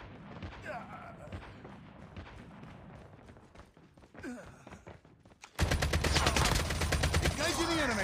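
Gunfire from the Call of Duty Mobile map Alcatraz, first scattered shots under game sounds and voice lines, then a loud sustained burst of rapid automatic fire that dominates the final seconds.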